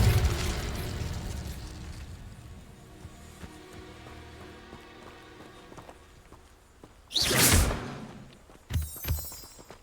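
An Incendio fire spell goes off in Hogwarts Legacy as a sudden loud whooshing burst of flame, followed by a couple of shorter bursts, all over a low rumbling game ambience.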